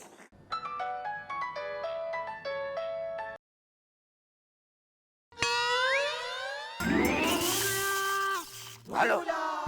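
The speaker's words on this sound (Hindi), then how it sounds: "भैया का फोन बज रहा।" A mobile phone rings with a repeating electronic melody for about three seconds, stops, then tones return among louder music and dramatic sound effects, in a Hindi TV drama scene.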